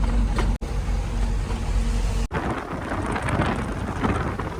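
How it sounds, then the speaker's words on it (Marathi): Steady, dense rain pours down during a journey toward Pimpalner, a continuous close hiss of drops on surfaces broken by two brief dropouts. "पाऊस पडतोय मित्रांनो"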